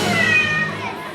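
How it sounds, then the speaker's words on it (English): A cat meows loudly and close by, one drawn-out wavering cry lasting about a second, in a school setting. "Kayla, I told you not to bring your cat to school."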